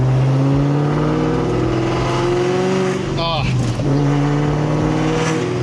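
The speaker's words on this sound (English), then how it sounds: "I can bounce my exhaust off of the buildings beside me." A cammed Terminator Cobra's exhaust rumbles and revs loudly and up close in heavy traffic, a steady deep burble with a sharp rev swell midway that echoes off nearby buildings.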